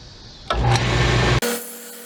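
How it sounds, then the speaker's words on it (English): A steady, close whirring rasp of sandpaper against wood spinning on a lathe, shifting pitch midway as the pressure changes. "we're going to want to sand on the underside so that if it catches, it throws it that way"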